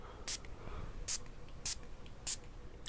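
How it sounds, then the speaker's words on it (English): Four short, bright hisses of a perfume atomizer spraying Soul Batik by Moresque from a decanter, spaced roughly evenly apart, close by against a quiet background. "we're going to spray some more here"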